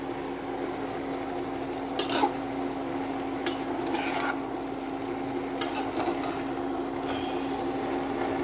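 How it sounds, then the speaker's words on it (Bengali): Leafy greens being stirred and turned in a pan, with a steady low background hum and a few brief scraping clatters of a utensil against the pan spaced out across the stretch. "এখন হচ্ছে শাকটা উল্টিয়ে দিব, নেড়ে চেড়ে"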